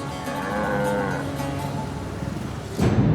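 Cattle in India moo in a long, loud, drawn-out call that fills most of the clip, with a harsher rumbling noise toward the end.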